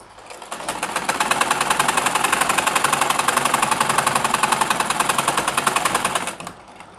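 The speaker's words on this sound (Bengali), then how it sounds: "এখন এখানে এই যে মাথাটা, আলগা মাথাটা আমরা সেলাই করে আটকে দিব" A sewing machine stitches down the loose end of a pajama pocket, running in a fast, steady, close rattle for about six seconds before stopping abruptly.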